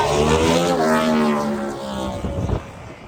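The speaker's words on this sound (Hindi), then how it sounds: "पीछे एक सुपर बाइक जा रही थी, तो मैंने कैप्चर करने की कोशिश की है" A superbike passes on a scenic road, its engine rising to a loud whine and then fading as it draws away, with a short burst of rough noise near the end.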